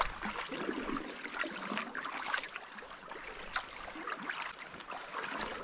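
A sailing canoe is paddled against a 12-knot headwind in the lee of Lilla Brandholmen on the way to Dalarö. Water splashes and swishes in irregular strokes over a low gusty wind rumble, close by and fairly quiet, with no talk.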